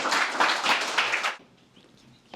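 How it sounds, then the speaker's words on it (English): Audience applause after an artist talk with painter Lari Pittman and a translator, a dense burst of clapping for over a second that cuts off abruptly, leaving faint room noise. "please join me in applause for Larry Pittman and our wonderful translator"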